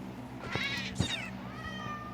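Cats meow in a video game, a few separate cries rising over a steady low hum, fairly faint with no talk.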